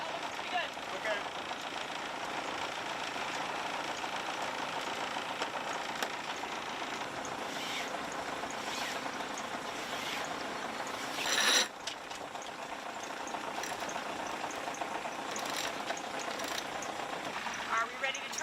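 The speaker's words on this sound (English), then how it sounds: "Are we ready to turn off the engine?" A sailboat's engine idles in a low, steady drone at modest level, with wind and water noise and people talking quietly on deck over it, plus a brief louder knock partway through.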